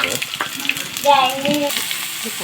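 Mustard seeds pop and sizzle in hot oil as curry leaves and ginger-garlic paste go into the pan for a chicken roast, a close, continuous frying crackle with a brief hiss as ingredients hit the oil.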